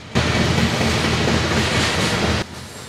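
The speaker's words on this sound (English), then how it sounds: "This one was all grain cars, train symbol GKKEKML, Kankakee, Illinois to Kings Mill, Texas." A freight train made up entirely of grain cars rolls past in Galesburg, Illinois, a steady loud roar of wheels and rattling cars with faint clickety-clack, starting abruptly and cutting off near the end.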